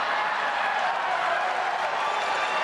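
Studio audience applause from a sitcom, a dense, even wash of clapping that holds at a steady loud level throughout without letting up.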